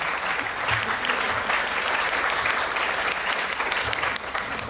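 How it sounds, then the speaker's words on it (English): Audience applause at an engineering college inauguration ceremony, steady dense clapping from a large crowd that fills the whole stretch at even volume, with no pauses. "give a round of applause for the lady"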